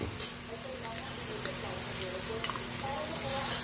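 An egg fries in a pan for picadillo, giving a steady sizzle throughout with a few light scrapes and clicks of stirring.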